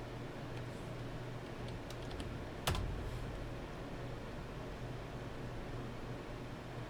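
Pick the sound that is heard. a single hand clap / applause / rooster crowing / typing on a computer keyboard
typing on a computer keyboard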